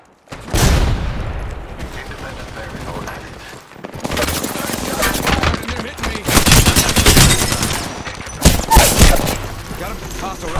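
Gunfire in the video game Apex Legends, loud, close bursts of rapid shots mixed with mechanical clatter and impacts, broken by short pauses, with game voices calling out over the action.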